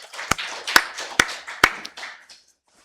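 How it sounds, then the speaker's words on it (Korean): A church congregation claps during a Korean Sunday worship service, four sharp, evenly spaced claps over a softer ringing musical background, then quiet. "살아계신 하나님께 박수 영광 드리겠습니다"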